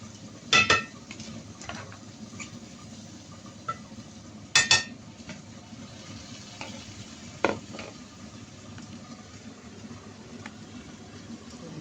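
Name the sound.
stirring mung beans with crushed dried shrimp in a pan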